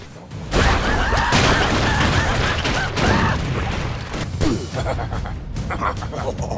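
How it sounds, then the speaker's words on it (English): Dense, continuous booming blasts and crashes from the video game Broforce pile up loudly, with whooshing and rumbling throughout, like a constant barrage of explosions. "massive explosions that happen consistently throughout the game"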